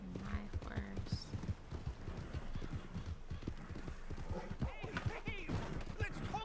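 A video game horse clip-clops along at a brisk, regular gait and lets out a short whinny partway through, while a person talks over the hoofbeats.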